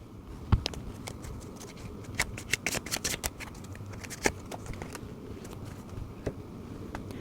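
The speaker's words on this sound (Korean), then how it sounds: "이번 주 여러분들께 드리는 소울 메시지 카드 한 장만 올려보도록" Tarot cards are shuffled and one is drawn and laid down, producing crisp, scattered snaps and soft papery slides at close range with no talking.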